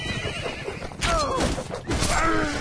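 Horse in the Mount & Blade With Fire & Sword video game, two loud whinnying neighs close by amid battle noise and hoof clatter, with someone speaking Spanish.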